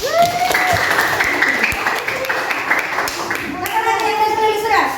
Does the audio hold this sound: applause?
yes